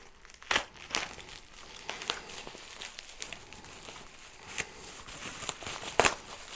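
Packing tape and wrapping crinkle and tear as a heavily taped parcel of PS1 games is pulled open, with irregular close crackles and a few sharper rips.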